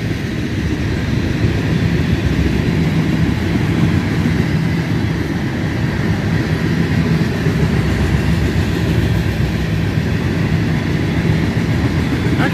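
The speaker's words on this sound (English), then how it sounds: "Actually a pretty short train compared to what's been coming through here." A long freight train of oil tanker cars rolls past in river bottoms on a cold morning, a loud steady low rumble with rhythmic clacking of wheels, sustained throughout with no talking.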